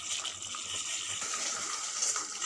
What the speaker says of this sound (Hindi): हम अभी इसमें ज़्यादा नहीं, 1 कप पानी में दे